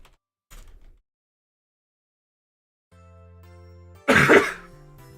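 Someone coughs indoors: a short soft cough early, then quiet and a low hum, then one loud, harsh burst of coughing near the end.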